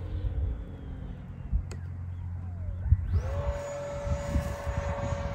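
Freewing F-22 90mm RC jet flying, a faint distant rumble that swells into a rising turbine whine partway through, with no voices.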